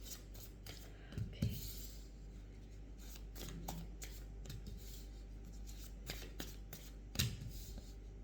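A deck of tarot cards is shuffled by hand, giving soft riffling and sliding bursts with a few sharper snaps, close and quiet, with no voice.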